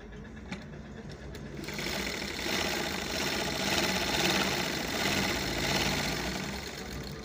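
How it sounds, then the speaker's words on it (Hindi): A large electric sewing machine stitching through a double layer of cloth. It runs as a steady, fast mechanical whir and clatter for several seconds after a brief pause, with no talking. "ये देखिए डबल कपड़े पे हमारा अच्छा सिलाई हो रही है हमारा।"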